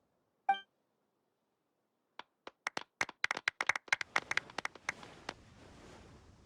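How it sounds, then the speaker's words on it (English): From Genshin Impact, a small crowd claps for the champion at an award ceremony. One sharp chime comes first, then scattered claps build into a brief, fairly faint round of applause that trails off. "Let's give our champion Kaveh one last big round of applause."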